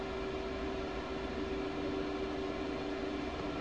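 Jet engine of an F/A-18C Hornet in the DCS flight game, a steady droning roar with a constant tonal whine, moderately loud and unbroken throughout, no voices.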